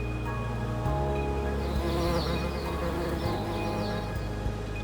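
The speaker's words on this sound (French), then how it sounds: "Les ouvrières butinent déjà les premières fleurs." Honeybees foraging on manuka flowers near the sea in New Zealand, giving a steady close buzzing drone with several overlapping wingbeat tones throughout.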